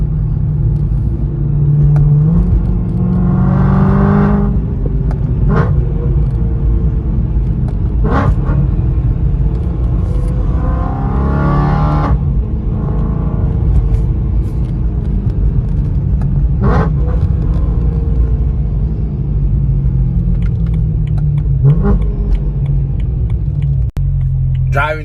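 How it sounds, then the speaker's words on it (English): BMW M3 exhaust booms from inside the cabin with the rear seats folded down, a loud continuous rumble with repeated revving swells and gear changes, with talking over it. "I like to take my rear seats down because you can hear even more sound of the exhaust."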